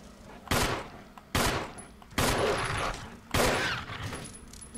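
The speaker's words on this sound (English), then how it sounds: "Shoot him with the handgun this next time" Four loud handgun shots in the Resident Evil Remake video game, fired at zombie dogs, spaced about a second apart, each a sharp crack with a decaying tail.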